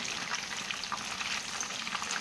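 Chicken pieces fry in hot oil with a steady, close sizzling crackle, continuous and even throughout with small popping bursts.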